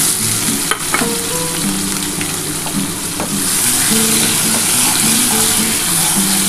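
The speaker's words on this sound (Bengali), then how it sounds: "এই যে পেঁয়াজ কুচিয়ে রেখেছি পেঁয়াজটা ভেজে দেবো।" Chopped onion fries in hot oil with bay leaves and whole garam masala, a loud, steady sizzle close by, broken by a few clicks and scrapes of stirring, with no speech.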